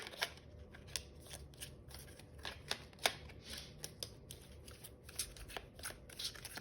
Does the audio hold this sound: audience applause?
no